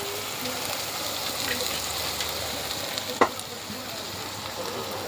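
Gravy made with ginger-garlic paste sizzles and fries in a pan, a soft continuous crackle with occasional stirring scrapes and one sharp clink, heard close up at low volume.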